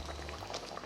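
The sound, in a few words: butter chicken sauce spluttering in the pan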